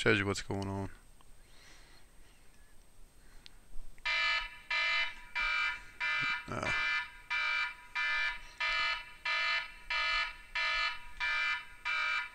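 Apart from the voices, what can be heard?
phone alarm going off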